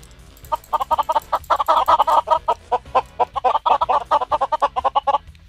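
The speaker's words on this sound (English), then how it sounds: "Let's spawn some chickens." Rapid, repeated clucking from several video game chickens in a Minecraft resource and sound pack, bursts of short calls tumbling over one another, clear and close with no talking.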